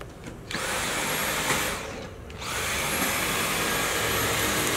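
A running vacuum cleaner, either a Sebo D4 canister or a Dyson stick vac, whines loudly and steadily, dips briefly around the two-second mark, then surges back to full power.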